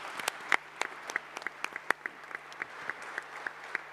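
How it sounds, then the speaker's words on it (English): Applause for panelists at an economic debate on Africa, sparse and fairly quiet, with individual sharp claps standing out over a low hum. "a round of applause to our panelists"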